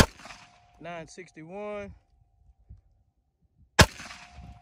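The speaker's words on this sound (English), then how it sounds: "take a couple more shots with this 30 super carry" A single sharp .30 Super Carry pistol shot fired into a meat target at an outdoor range, loud and abrupt, following a stretch of nearby talk and a pause.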